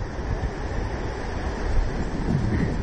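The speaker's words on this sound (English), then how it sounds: "There are some righteous waves they're riding." Ocean surf with surfers out riding the waves, a steady broadband wash of breaking water heard from some distance, fairly faint and continuous over three seconds with no voices.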